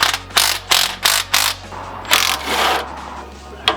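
A socket wrench ratchets as it loosens large nuts, four quick rhythmic clicking pulls followed by a couple of slower, longer ratcheting strokes, close and loud with a low hum underneath.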